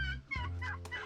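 Turkeys in a garden turkey tractor let out short, close gobbling and clucking calls in quick succession, several bursts within a second with no talking.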